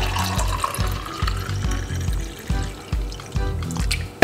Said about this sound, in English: So pour it out.